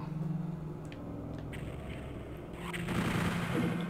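Shotgun blasts in Doom 64 mixed with rapid in-game gunfire and rumbling booms, fairly loud and continuous, intensifying in the last second.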